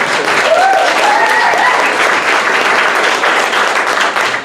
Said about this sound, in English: applause him right there